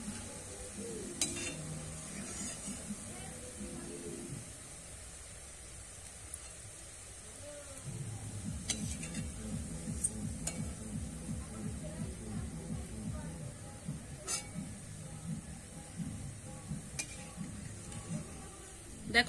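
Boondi, small droplets of gram flour batter, frying in hot oil with a steady soft sizzle and bubbling, broken by occasional clinks and stirring scrapes from a spoon against the pan; no talking is heard.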